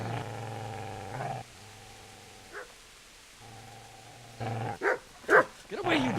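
Growling, snarling dog attacking in Kingdom Come: Deliverance, a low continuous rumble in two long stretches, then sharp yelps and barks bursting out near the end, loud and close.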